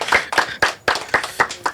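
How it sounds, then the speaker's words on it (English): A live audience claps in a loose, uneven burst, about seven distinct sharp hand-claps spaced roughly a quarter second apart, close and fairly loud with no other sound. "Everybody clap."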